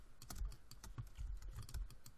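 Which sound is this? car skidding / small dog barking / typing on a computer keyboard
typing on a computer keyboard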